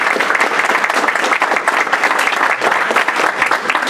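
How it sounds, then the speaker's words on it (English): At a board of education meeting, an audience claps in a lively round of applause, with individual hand claps distinct within the close, fairly loud, steady clapping. "Let's give them another round of applause."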